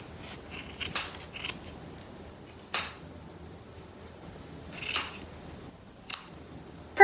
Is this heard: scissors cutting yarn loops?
yes